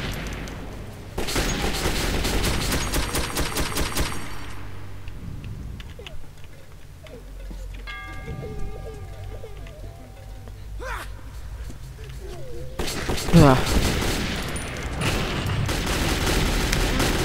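Video game gunfire from Metro 2033 comes in dense, loud bursts of rapid shots at the start and again near the end, separated by a quieter stretch of ambient game sounds.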